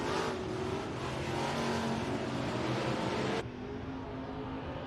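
Race cars roar around Rapid Speedway during a Friday night race, with a dense, loud engine drone that drops off sharply near the end.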